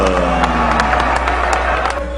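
A big boxing arena crowd at a Glen Johnson heavyweight fight roars in a steady, dense wash of cheering and scattered clapping, loud and continuous throughout with no clear pauses.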